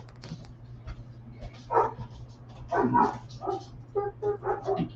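Dogs barking and yipping in short, repeated bursts at close range, with a steady low hum running underneath throughout.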